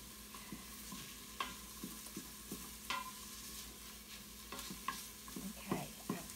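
Onions sauté in the inner pot of an Instant Pot, giving a faint, even sizzle with soft scraping strokes and occasional taps of a stirring spoon.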